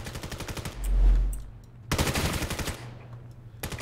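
Rapid bursts of automatic gunfire traded in a competitive Vail esports match, loud close volleys with a brief pause between them, a deep boom near the start and another burst at the end, no talking.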